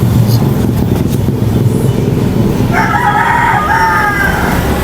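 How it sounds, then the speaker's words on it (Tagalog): A rooster crows from about the midpoint, a drawn-out call rising over steady background rumble and noise in a Philippine setting during a battery check. "Uy, may manok ka diyan?"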